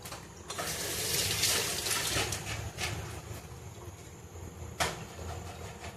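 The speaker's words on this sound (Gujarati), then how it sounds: "જો કેટલી વાર લાગે પાણી ભરતા" Water runs steadily from a tap into a container as it fills, a continuous close hissing rush that swells and fades slightly with no speech.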